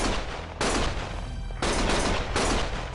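Gunfire in the PS5 game Lost Judgment, heavy automatic bursts in three loud sustained volleys separated by brief pauses.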